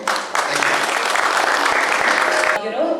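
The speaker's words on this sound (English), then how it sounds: "Let us hear a big round of applause" Loud, dense applause from an audience at a Docbrella brand launch event, sustained steadily for about three seconds and easing off slightly at the end, with faint voices mixed underneath.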